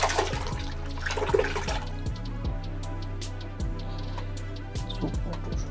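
Soapy water rushes in a splashy pour to soak an Ngage performance motorcycle air filter from a Royal Enfield, then settles into a series of close, irregular drips. No one speaks.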